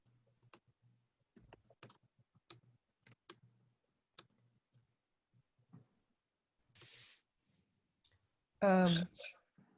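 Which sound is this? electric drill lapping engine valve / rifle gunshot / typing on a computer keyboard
typing on a computer keyboard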